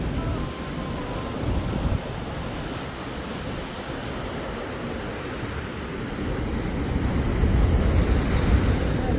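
Rough monsoon sea surf crashing and washing in continuously at Snehatheeram Beach, with wind roaring across the microphone, swelling louder toward the end.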